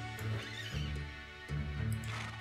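A horse in the video game Swag and Sorcery whinnies twice, two clear bright neighs with short hoof-like clops between them, close and alone.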